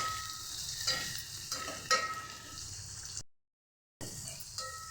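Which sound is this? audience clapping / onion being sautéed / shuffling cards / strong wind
onion being sautéed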